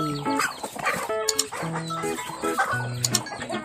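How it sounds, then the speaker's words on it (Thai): Busy, loud chicken clucking and squawking, several birds calling over one another in choppy bursts with no one talking. "ไก่"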